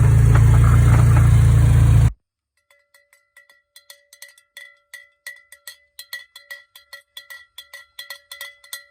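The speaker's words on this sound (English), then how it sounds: "So that's a Tractor Supply cowbell." A Tractor Supply cowbell is rung outdoors to call sheep for feeding. A short burst of loud noise cuts to silence, then repeated bright metallic clanks grow louder and quicker in an uneven rhythm.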